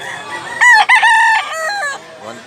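A rooster crows loudly and close by, a strained, wavering call that breaks partway through and trails off.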